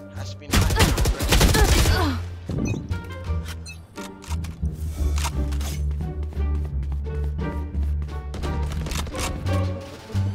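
Gunfire in the video game Valorant, a loud burst of rapid shots up front followed by scattered single shots and clattering game effects over a droning background.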